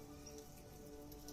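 Rain begins to fall in cold, snowy mountain weather, a steady soft patter of drops hitting surfaces, faint and even throughout without any voices.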